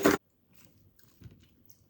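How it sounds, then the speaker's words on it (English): Crunchy oven-baked sheet pan burger, cooked at maximum heat, bitten into with one sharp, loud crunch at the start, followed by quieter chewing sounds. "Oh man, that crunch. That crunch is fantastic."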